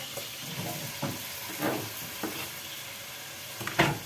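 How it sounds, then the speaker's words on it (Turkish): Onions sauté together with meat in a pan for a vegetable and meat stew, giving a close, steady sizzle broken by several scraping stirs and a sharp clack near the end. "Etimle beraber sotelensin."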